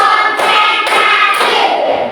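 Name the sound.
rhythmic hand clapping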